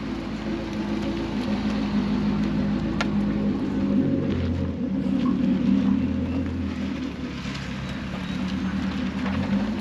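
A Corvette drives around on wheels, its engine giving a steady low rumble that swells and fades gently for about ten seconds, with no one talking.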